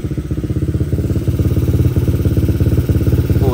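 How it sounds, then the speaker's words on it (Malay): A Yamaha LC135 motorcycle engine idles close by, a loud, steady pulsing thrum with rapid regular firing beats and slight rhythmic clatter, running alone without talk. "So motor sudah hidup, alhamdulillah."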